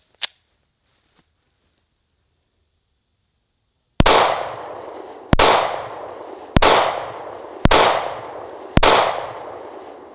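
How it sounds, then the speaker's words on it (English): Five loud, sharp gunshots from a 9mm P365 pistol firing 115-grain full metal jacket rounds at a Level 4 ceramic body armor plate, spaced about a second apart after a faint earlier crack, with no talking. "Okay guys, P365, 9mm, 115 grain, just regular full metal jackets."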